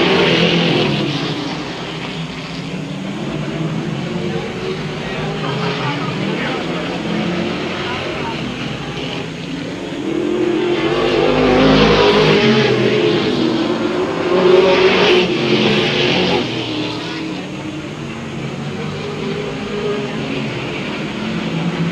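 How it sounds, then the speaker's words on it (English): Race cars roaring past the starter stand on a racing circuit, a continuous loud engine drone that swells as the pack passes close by around the middle and again near the end, with an announcer talking over it. "Your leader remains Frankie Frazier as they come by the starter stand one more time"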